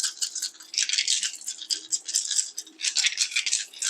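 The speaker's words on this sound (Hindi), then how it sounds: "डाइस रीडिंग करेंगे और डाइस की आवाज़ पे आपको फोकस करना है" Dice shaken and tumbled for a divination reading give a continuous bright, clattering rattle in uneven bursts, moderately loud, with no voices.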